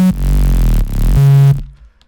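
Synth bass plays at a low octave in a dance drop, with two deep, heavy sustained notes and a brief gap between them, loud and alone before cutting to near silence.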